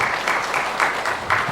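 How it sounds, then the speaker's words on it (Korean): Congregation applauding during a Sunday afternoon church service, a brief burst of clapping in loose rhythmic pulses with a crowd murmur beneath. "우리 다 같이 하나님께 영광의 박수를 올리겠습니다."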